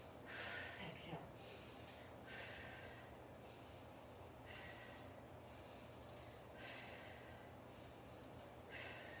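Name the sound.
heavy breathing during hammer curl and overhead press exercise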